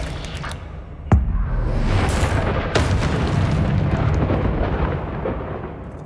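A Confringo explosion spell in the video game Hogwarts Legacy goes off with a sharp, loud boom, followed by a long rumbling roar that slowly fades.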